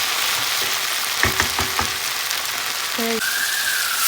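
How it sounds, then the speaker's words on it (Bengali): Spice masala frying in a pan for rohu fish, a steady bright hiss of sizzling oil with a few brief stirring knocks and a short tonal sound near the end. "এই পাশে তেজে রুই মাছ রান্না করার জন্য মশলা কষিয়ে নিচ্ছি আমি"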